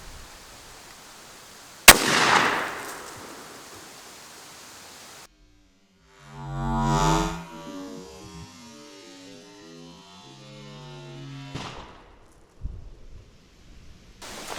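A 12 gauge shotgun loaded with 7.5 birdshot fires once at a rubber band ball outdoors, giving a single sharp, loud blast that rings off briefly. The shot is followed by quieter rustling and handling noises.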